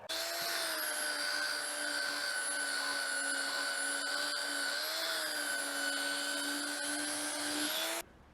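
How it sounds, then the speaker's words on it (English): A power sander on wood whines steadily at a high pitch for several seconds, then cuts off abruptly near the end. "the final sanding is done"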